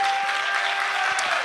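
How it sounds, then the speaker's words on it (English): A church congregation applauds together during a worship service, a dense, steady wash of clapping that holds at an even level from start to finish with no voices over it. "Would you clap one more time for the Lord?"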